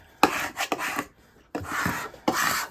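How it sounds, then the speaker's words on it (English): A scraping tool is pressed and rubbed over vinyl on transfer tape during a glass etching craft, making several close, dry rasping strokes with brief pauses between them. "take a scraping tool, and I'm going to start from the front, and I'm going to adhere this vinyl to the transfer tape"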